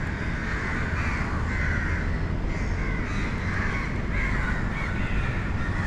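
Crows caw repeatedly outdoors in Singapore, their harsh calls rising over a constant loud roar of ambient noise.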